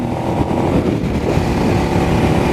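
A small motorcycle, roughly a 500, passes with a steady, loud buzzing engine drone that swells slightly around the middle, heard from nearby against wind noise.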